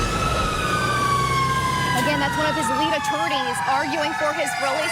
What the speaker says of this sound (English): There's a fire truck passing by right now.